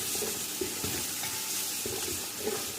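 A spoon stirring turmeric and nigella seeds through oil in a pan, with soft scraping strokes and gentle sizzling close by, several light knocks against the pan at irregular intervals.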